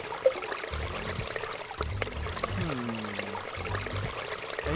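Water pours into a container in the DOS adventure game The Legend of Kyrandia III: Malcolm's Revenge, a steady trickling stream with tonal game sound effects rising and falling partway through.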